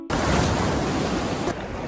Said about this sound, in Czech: dneska je brutálně rozbouřený moře a jsou úplně obrovský vlny